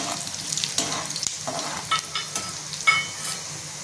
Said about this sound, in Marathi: त्रिफळा टाकून घेते आणि ते सुद्धा तळते